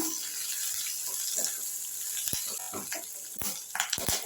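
Curry leaves and asafoetida sizzle in hot oil in a pan for a chow chow kootu tempering: a steady, close hissing fry with a few sharper clinks and stirring clatters toward the end, no talking.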